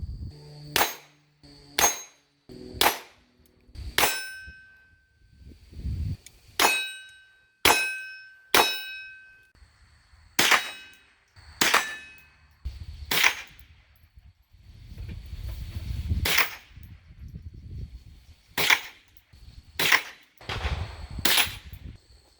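Gunshots ringing off a steel target at a first-time shooting session, about fourteen sharp cracks each followed by a bright metallic clang, spaced irregularly one to two seconds apart, with faint rustling between shots.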